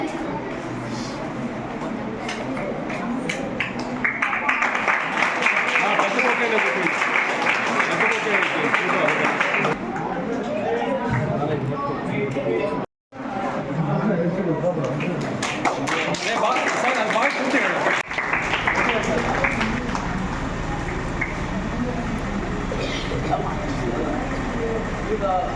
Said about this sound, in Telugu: చప్పట్లు కొట్టట్లేదా మీరు?